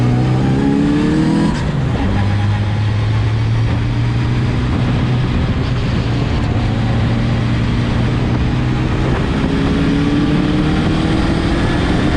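A race car's 750cc Robin Reliant engine screams at high revs near 8,000 RPM at Mallory Park, its steady whine rising and falling as it roars past nearby, loud and continuous throughout.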